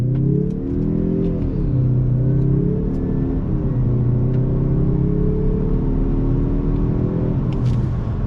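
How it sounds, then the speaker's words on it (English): A 2021 Mazda 3 Turbo with all-wheel drive accelerating hard in manual shift mode, engine note climbing in pitch, dropping at each upshift, then rising again, loud and close from inside the cabin with no talking. "Let's go ahead and do a little bit of an acceleration test. I have it in manual shift mode."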